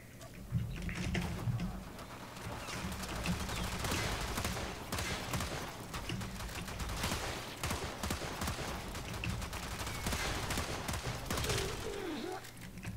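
Rapid, repeated pistol gunfire from a Zylok in the video game Warframe crackles in dense bursts throughout, layered over game effects and a low background hum at moderate level.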